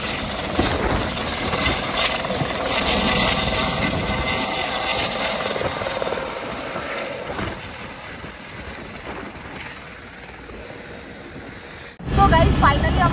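A helicopter at the Gangotri helipad before a flight to Kedarnath, its rotor and engine running as a continuous roar while people talk over it; the noise eases toward the end before a sudden loud burst.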